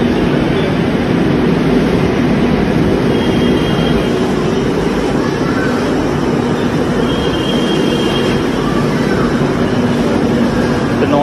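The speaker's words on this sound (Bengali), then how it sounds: "নোয়াপাড়া টার্মিনেট হচ্ছে, আর এটা এখন ব্যাক করে যাবে দমদম ক্যান্টনমেন্ট জাসারোড হয়ে এয়ারপোর্টের দিকে।" A Kolkata Metro Yellow Line train on its first day of commercial service at Noapara station gives off a loud, continuous rumble and hum that holds steady throughout, with no voices.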